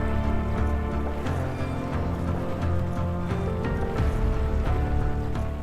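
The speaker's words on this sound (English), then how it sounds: "He paddled the boat to catch it before it sank" Paddling a small boat on Arctic water far offshore, with a steady loud wash of water and engine-like hum, rhythmic splashes of the paddle strokes recurring throughout.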